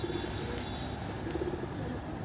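A Pakistani pigeon coos softly nearby, a few low, rounded murmuring calls over a steady background hum.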